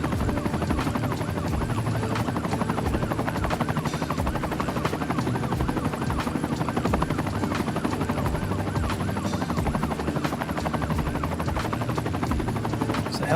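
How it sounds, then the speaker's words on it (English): A video game helicopter's rotor chops steadily throughout, a continuous rhythmic thumping and whir holding at a constant loud level with no talking. "There's a helicopter around here somewhere."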